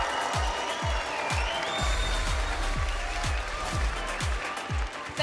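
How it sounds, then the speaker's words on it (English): An esports tournament's home crowd claps steadily, a dense wash of applause with sharp individual claps standing out, continuing at an even level throughout. "thank you for this beautiful applause from the home crowd"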